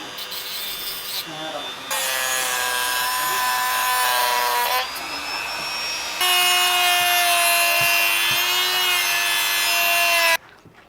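A Dremel rotary tool grinds down electric motor brushes during DIY boat repairs, giving a loud, steady high-pitched whine in long sustained passes broken by short pauses, close up with no speech.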